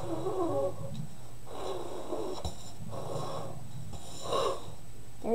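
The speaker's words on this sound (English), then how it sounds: "We're going to try and blow" Hard, breathy blowing in a kids' science activity to push small objects into cups, coming in four repeated bursts of forceful exhaling, close to the listener.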